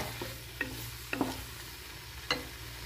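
A masala mixture with milk roasts on a gas stove over medium flame, giving a soft, low sizzle broken by a few sharp clicks and taps of stirring, with no talking.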